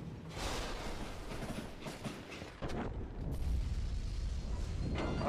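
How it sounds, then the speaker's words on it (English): A train in the Western shooter game Call of Juarez Gunslinger rumbles and clanks, with rolling mechanical noise, metallic knocks and a sudden heavier surge midway, all fairly close and busy without speech. "It was then that Jesse detached the express car from the rest of the damn train"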